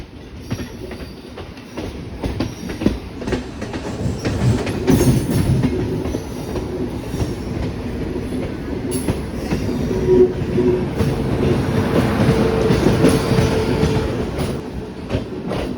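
A train between Bengaluru and Mysuru rumbles steadily along the tracks, close and loud, with rhythmic wheel clatter and occasional squeals building over time, entering Mysuru.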